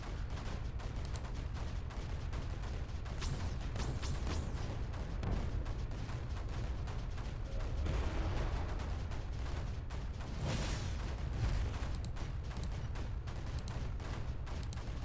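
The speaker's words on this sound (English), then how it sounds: "Construct a little cannon here." Cannons firing in the strategy video game Creeper World 4: several booming, gunfire-like blasts break out of a constant low rumble, loudest around the middle and later in the stretch.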